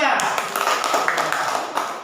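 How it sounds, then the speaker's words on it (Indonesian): A classroom of students claps for a presenting group, a short burst of uneven hand claps close by, mixed with talk in the room. "Tepuk tangan untuk kelompok 3."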